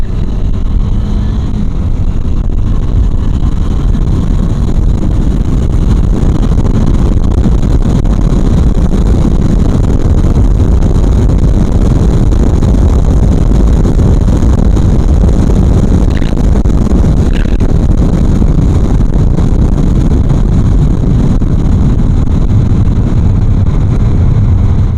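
KTM Adventure motorcycle accelerating on a road at night, a steady loud engine roar mixed with heavy wind rush throughout, with no talking.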